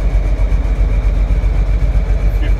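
A steady, loud old Kenworth truck engine idles continuously with a rough, throbbing low drone from a leaking exhaust, and no voices.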